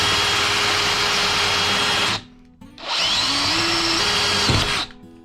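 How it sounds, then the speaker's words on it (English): Power drill boring a hole through tubing for a homemade derailleur hanger alignment tool, two sustained whining bursts of motor and bit noise separated by a brief pause, close and loud. "I'm going to just have my drill here that I'm going to use."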